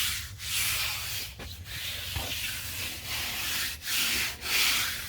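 Hand rubbing over a rough, dry fiberglass repair on a Pontiac Fiero body, a steady close scratchy friction with several brief pauses between strokes, no voices.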